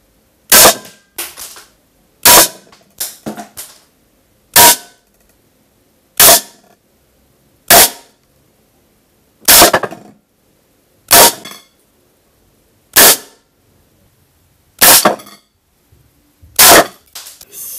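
A Gamo HPA Mi air rifle in 4.5mm calibre fires pellets: about a dozen sharp, loud cracks spaced one to two seconds apart, each followed by a brief metallic ring, with silence between.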